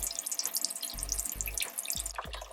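Grey water drains from the tank beneath a caravan, dirty after winter, running in a steady close splashing stream with a few distinct gurgles and drips.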